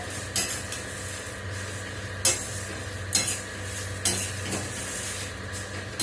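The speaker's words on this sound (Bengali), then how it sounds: "এই আস্তে আস্তে করে নেড়ে চেড়ে নেবো মশলাটা।" Spices are stirred slowly in a pan, a soft sizzle underneath with four or five distinct scrapes and light metallic clinks of the spoon against the pan at irregular intervals.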